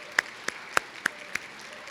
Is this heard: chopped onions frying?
no